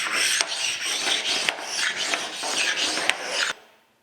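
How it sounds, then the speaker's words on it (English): A flat stone rasps back and forth across a metal master straight edge from a Thompson surface grinder restoration, deburring it in close, rhythmic gritty strokes that stop abruptly. "Take our flat stone and deburr it."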